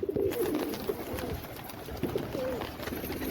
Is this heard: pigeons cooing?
yes